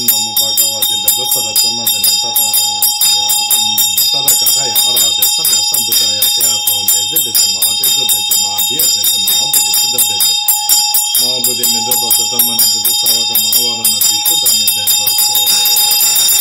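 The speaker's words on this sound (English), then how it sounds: "one can pick up one's Vajra and bell and use that while reciting the mantra." A Tibetan Buddhist ritual bell rings steadily during mantra recitation, its bright sustained metallic tone continuous throughout, with a chanting voice running underneath.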